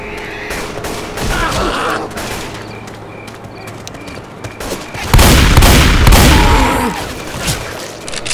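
Gunfire from the zombie shooter Left 4 Dead 2, with scattered shots through a busy chaotic mix and a heavy, loud burst of firing late in the clip.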